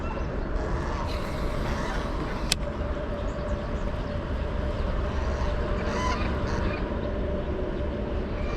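Geese honk intermittently on a creek, heard from a kayak, against a steady, loud wash of outdoor noise, with one sharp click partway through.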